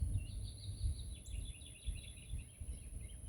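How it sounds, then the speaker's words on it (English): Birds sing outdoors on a fine day, a steady chorus of faint high chirps and trills carrying on without pause over low background rumble. "just listening to the birds"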